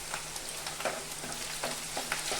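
Chopped tomato goes into a pan of reddish-fried onion and whole garam masala for chicken kosha, giving a steady close sizzle with soft stirring scrapes and light clicks throughout.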